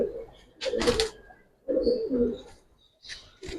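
Giribaz pigeons in a loft give low bursts of soft cooing, several short rounds close by with quiet gaps between them.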